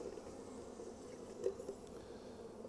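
Honeybees hum at an open hive, a soft, continuous low buzz from a mass of bees close by, faint and steady with a brief swell midway.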